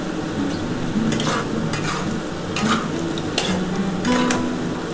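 Onions and potatoes frying in a pan with ginger, garlic and tomato paste nearby, a loud continuous sizzle with repeated rhythmic stirring scrapes from a spatula.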